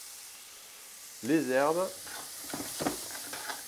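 Onions sweat in a saucepan while veal shank cooks, giving a steady soft sizzle and frying hiss throughout, with a brief stir, under a man's short spoken remark.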